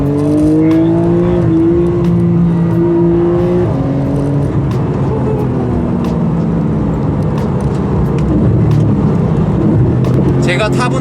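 A Porsche 911 GT2 RS, the 700-horsepower model, pulls hard with a loud engine note that rises and shifts while popping crackles sound from the exhaust. Someone talks continuously over it from inside the car.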